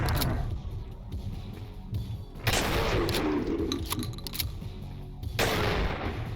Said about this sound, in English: let's keep using a shotgun